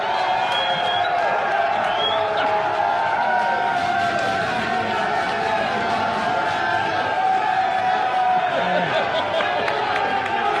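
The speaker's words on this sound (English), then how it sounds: "Applause registered." A studio radio audience applauds, cheers and whoops without a break, a dense, loud crowd roar holding steady throughout.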